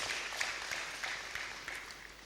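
Audience clapping at a conference talk in Abuja, a soft, distant patter of scattered hands with a few sharper claps, faint and continuous for a couple of seconds.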